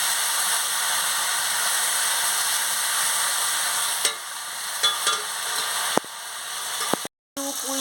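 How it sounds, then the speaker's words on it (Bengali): A spice paste fries in a pan with a little water and is stirred for a fish curry with Malabar spinach, giving a dense, steady sizzle that ends in a few sharp clicks and scrapes. "সামান্য একটু জল দিয়ে মশলাটাকে ভালো করে কষিয়ে নিচ্ছি।"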